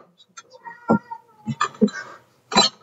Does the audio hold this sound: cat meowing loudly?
yes